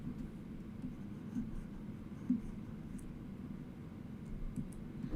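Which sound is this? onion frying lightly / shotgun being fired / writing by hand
writing by hand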